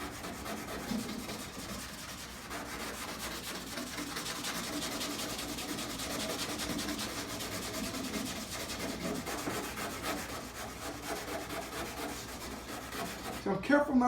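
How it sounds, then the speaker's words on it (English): A scouring pad rubs across peeling clear coat on car paint, a steady close abrasive scrubbing that runs continuously with small swells, ending in a few louder scuffs. "So first I'm going to use this scouring pad."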